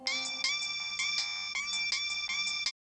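A mobile phone ringtone plays alone, a bright electronic melody of repeating chiming notes in a steady pattern, then stops abruptly.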